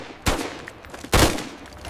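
Gunfire at night from a dark doorway: two sharp, loud blasts about a second apart, each trailing off in a brief echoing decay.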